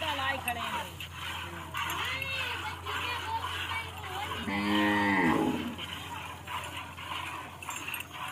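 A water buffalo at a livestock sale gives one deep, drawn-out moo midway through, close and fairly loud, while people talk steadily throughout.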